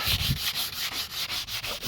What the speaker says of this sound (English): just been sanding that